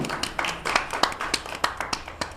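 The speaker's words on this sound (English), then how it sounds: "How about a round of applause for Vicky, ladies and gentlemen" A small audience at a senior show applauds with loose, distinct claps ringing out one by one in a short, close burst.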